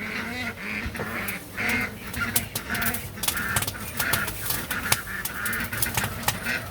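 A flock of ducks quacking loudly and continuously at morning feeding time, many overlapping calls close by with no pause.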